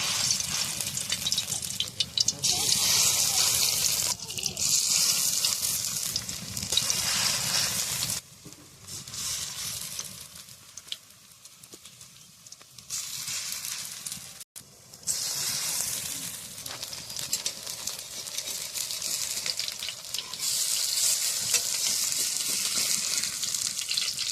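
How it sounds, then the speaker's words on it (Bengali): Food fries in hot mustard oil in a pan over a wood-burning stove, a loud bright sizzle that runs continuously, dips quieter for a few seconds in the middle, then surges back up to full strength. "আমি সরিষার তেল দিয়ে ভাজছি।"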